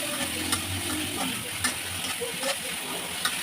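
Steady sizzling of ginger and cumin paste frying in a pan, with occasional light clinks of a utensil stirring, close and moderately loud.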